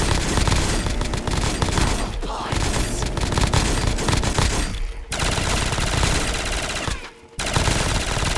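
Rapid automatic gunfire fills a Call of Duty Zombies match on the Space Tower map, with sustained bursts of shooting, brief pauses and dense game sound, loud and continuous.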